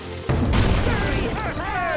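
An old cannon fires in the Skylanders game with a sharp heavy boom, followed by a crashing rumble and what sounds like a voice.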